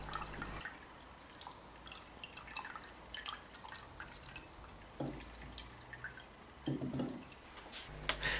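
Old diesel dripping from the fuel filter chamber of a Skoda Superb, with quiet irregular drips and small trickles into a container and a couple of louder splashes.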